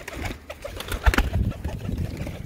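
High flyer pigeons coo close by in soft, throaty bursts that repeat irregularly over a busy background of rustling and handling noise.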